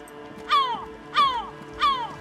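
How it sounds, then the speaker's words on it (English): A loud crow-like bird in the video game Disco Elysium caws three times at even intervals, each call harsh and close over a quiet background. "It's a very loud bird."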